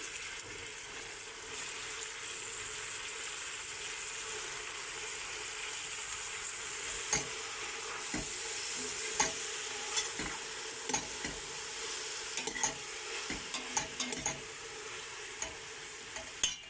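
Onions already fried in a pan sizzle steadily as kömeç (mallow greens) is added and stirred in, with scraping and stirring clicks growing more frequent toward the end, close and moderately loud, with no talking.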